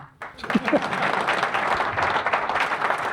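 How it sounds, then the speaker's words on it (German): Audience applause at a motorsport talk show, steady dense clapping that swells quickly and holds loud and close throughout. "Ihr dürft klatschen."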